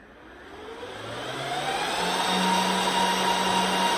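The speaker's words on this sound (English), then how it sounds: "That sounds like a vacuum cleaner." Server hardware powering up, its fans spinning up to a loud, vacuum-cleaner-like whir with a rising pitch that levels into a steady drone.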